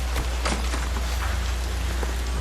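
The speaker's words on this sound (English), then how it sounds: "It's raining." Steady rain in the video game L.A. Noire patters and splashes on a surface, a dense close hiss with a low hum underneath.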